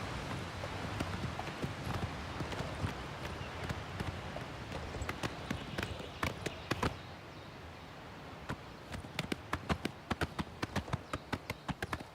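Hooves of a ridden horse clip-clop in a steady running rhythm on a road in the fantasy game town of Cheydinhal, sharp close strikes over a constant ambient bed with no talk.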